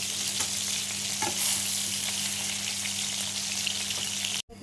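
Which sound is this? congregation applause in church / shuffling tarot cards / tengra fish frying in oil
tengra fish frying in oil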